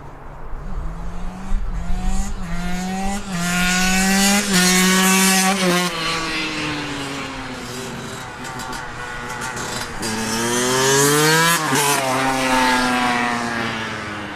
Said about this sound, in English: I do hope the noise of the motorbikes aren't spoiling it too much for you